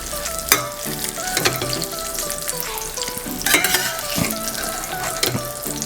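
Broken wheat fries in ghee for daliya halwa with a dense, close sizzle, and repeated scraping knocks from a stirring spoon punctuate it; no voices are heard.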